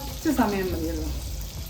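Puri dough frying in hot oil gives a soft, continuous sizzle, with a brief brighter burst near the start as it hits the pan, heard fairly close in a home kitchen.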